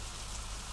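Steady rain falling on a surface, a dense even hiss of drops with no breaks or voices, close and moderately loud throughout.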